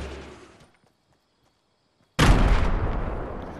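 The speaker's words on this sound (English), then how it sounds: "And this one, which is a grenade launcher" Grenade launcher in Fortnite: a decaying blast fades into near silence, then a sudden loud, heavy boom erupts and rumbles on, booming close and full.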